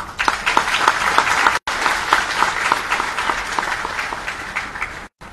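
Audience applause at a swearing-in ceremony for parliamentary secretaries, a dense, loud burst of many hands clapping that runs steadily for several seconds with two abrupt brief cutouts.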